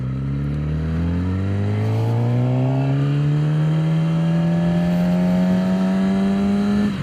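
Suzuki GSX-R 600 sport motorcycle pulling hard in second gear, its engine note rising steadily in pitch through a sustained, loud, continuous rev with no talk over it.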